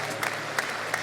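Church congregation applauding at a missionary congress, a steady wash of clapping for about a second, moderately loud with no voices standing out.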